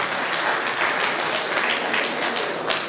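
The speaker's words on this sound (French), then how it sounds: "Applaudissez à Madame Béatrice Simon." Warm audience applause for Madame Béatrice Simon at an anniversary ceremony, a continuous bed of many people clapping at a steady, moderate level.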